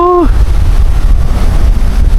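Strong wind buffeting a seaside fishing camp, a loud continuous roar battering the microphone, with a brief voice at the very start.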